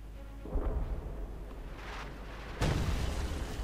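Explosions in the video game Company of Heroes 2, two deep booming blasts about two seconds apart over a constant low rumble of battle ambience, with no talk.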